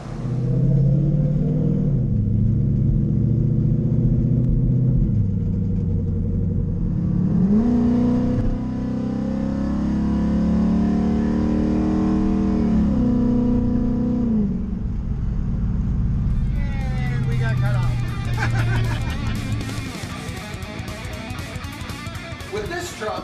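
A 1969 Ford F100 truck with a Coyote engine swap drives along, its engine rumbling loudly with shifting revs and gear changes, fading into road noise and wind near the end.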